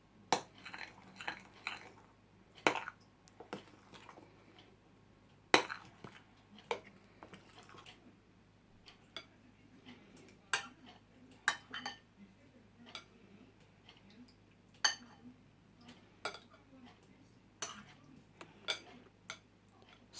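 A mango dessert being stirred together with crystal jelly in a bowl: quiet, irregular clicks and soft squishy taps from the spoon, close up over a low background hum.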